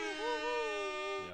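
A sustained, blaring air-horn tone lasting just over a second with a slight wavering pitch, apparently a human voice imitating the horn, loud and close, ending abruptly.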